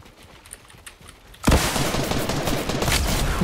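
Fortnite gunfire breaks out suddenly in a loud, dense burst of rapid shots that keeps going to the end, following a quieter stretch of faint game sounds, with no talk.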